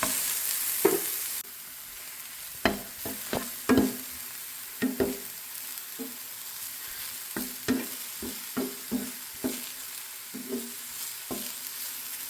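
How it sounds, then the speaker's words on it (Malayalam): Repeated scraping stirs in a pan over a soft sizzle as banana is sautéed, short irregular strokes spaced a second or two apart, close by with no talking. "നമുക്ക് നന്നായിട്ട് ഒന്ന് വഴറ്റിയെടുക്കാം"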